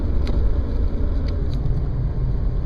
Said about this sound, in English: other than the winter tire sound